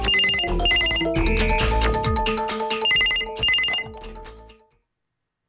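A telephone rings with a repeated electronic ringtone melody, loud and close, several bursts in succession before cutting off into silence, with no talking over it.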